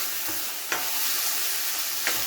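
Tomato, red sweet pepper and garlic fry in a pan with a loud, continuous sizzle, while a utensil stirs through them with a few soft scraping strokes.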